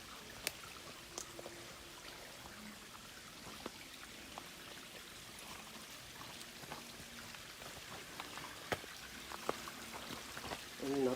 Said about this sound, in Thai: น้ำไหลมาเยอะแล้วนะพี่เอฟซี